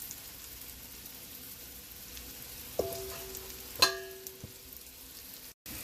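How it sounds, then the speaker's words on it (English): Eight flour-dredged pork chops browning in a pan over medium-high heat, a low steady sizzle close by with a couple of sharp clinks and knocks of the pan, no talk. "I squeezed in 8 pork chops, and I'm just going to brown them medium-high"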